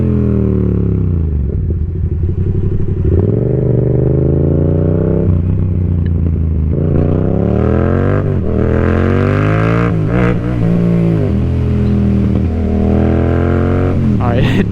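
Yamaha MT-07 (2021) with an M4 full exhaust burbling at low revs, loud and close, its deep tone rising and falling as the throttle is worked.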